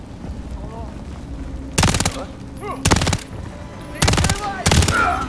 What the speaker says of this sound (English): There's enemy fire.